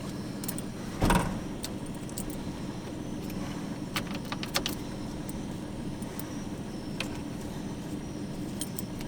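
A Jeep key turns in the ignition of a CJ7 with a short rattling jangle near the start, then a few light clicks follow over a steady low hum.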